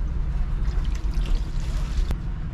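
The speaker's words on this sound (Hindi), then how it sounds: "इसमें पहले पानी डालूँगा मैं" Water poured into a bowl of flattened rice (chura), a steady low splashing trickle running close and continuous, with no talk.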